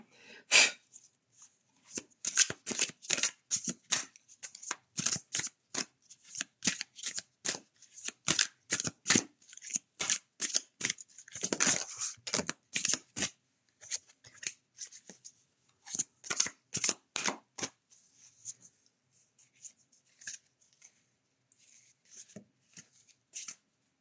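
A deck of cards being shuffled by hand, a long series of quick, crisp riffling bursts close by, broken by short pauses and fading to quiet toward the end.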